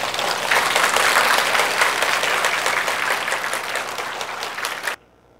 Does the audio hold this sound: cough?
no